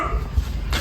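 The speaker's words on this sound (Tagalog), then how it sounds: "maingay lang yung aso mga master" A dog barking nearby during work on a washing machine, a short burst of a couple of yips and barks heard faintly behind low background noise.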